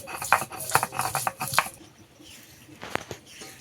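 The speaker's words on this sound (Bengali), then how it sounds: "রসুন বেটে নেব।" Garlic being ground into paste, heard as quick, close rhythmic knocking and scraping strokes that thin out into a few scattered taps.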